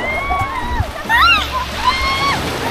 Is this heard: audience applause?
no